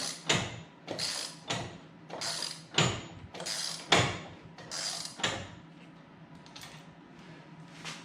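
A wrench works a snowblower wheel bolt loose in a series of rhythmic metallic ratcheting clicks, about six evenly spaced strokes, close up, then quieter mechanical rattling as the turning stops.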